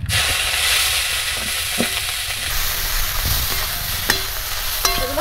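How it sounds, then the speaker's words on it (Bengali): Lakshmi prawns coated in turmeric fry in hot mustard oil in a wok, a steady close sizzle with a few sharp clinks and scrapes from stirring, no voices. "এগুলো হালকা করে একটু ভেজে নেব"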